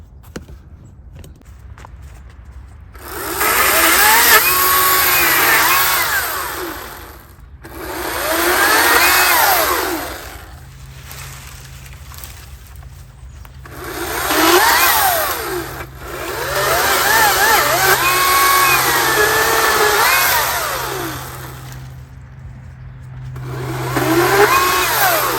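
A Ryobi 40V battery electric chainsaw cuts through wood in four loud bursts of high whining buzz, each lasting several seconds and rising as the chain bites, with quiet gaps between cuts.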